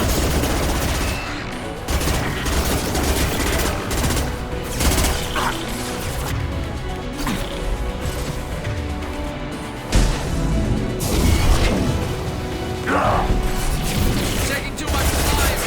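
Sustained gunfire in a Mass Effect 2 combat encounter, with dense volleys and sharp impacts running throughout and voices talking beneath the shooting.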